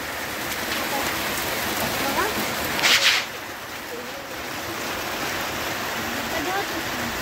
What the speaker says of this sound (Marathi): हे बघा थोडा पाऊस चालू. आवाज तर येतच असेल तुम्हाला.